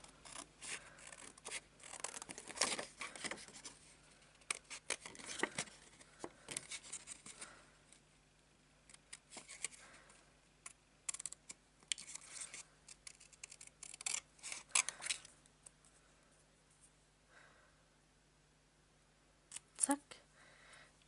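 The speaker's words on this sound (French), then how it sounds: "Je vais couper ça à la main." Hand-cutting a paper greeting card with scissors, a run of faint crisp snips and paper rustles spread unevenly, with someone speaking intermittently over them.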